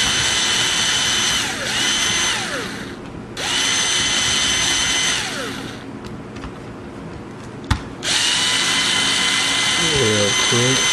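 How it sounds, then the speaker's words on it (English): An electric drill backs screws out of a toy car in bursts, whirring loudly in three long runs with short pauses, a sharp click between them and faint clinks of small parts near the end. "I'm gonna use my drill."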